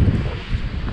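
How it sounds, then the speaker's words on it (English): Wind buffeting a microphone during rain while surfing, onshore wind, a steady low rumbling roar with gusty swells throughout, close and fairly loud. "It's raining, it's windy."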